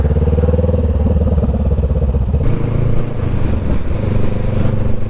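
A 500cc cruiser motorcycle runs steadily nearby with a loud, continuous low engine throb, its tone shifting partway through as the revs change.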